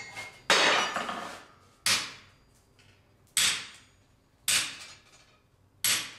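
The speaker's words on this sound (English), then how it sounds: "you run your chisel little steps along the lines you marked" A chisel struck with a mallet in short steps along marked lines on the back of a dragon door knocker, five sharp metallic taps at roughly even intervals, each ringing briefly before fading.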